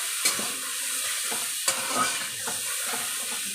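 Tangra fish curry sautéing in a pan with salt, a steady sizzle broken by a few sharp scrapes of a spoon being stirred through, heard close with no talk.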